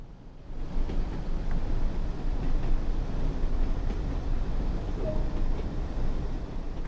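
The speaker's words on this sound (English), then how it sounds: "Why do I feel like I'm out of control with this train?" A Class 101 diesel train on the Trans-Pennine route in Train Sim World drones with a continuous, loud rumbling engine and rolling noise that holds steady for the whole stretch, with no talking over it.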